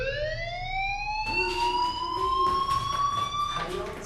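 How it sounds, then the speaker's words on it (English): A fire alarm wails with rising, sustained electronic tones in the game Life Is Strange, loud and continuous, with brief clatter and other sound underneath. "do you hear that fire alarm?"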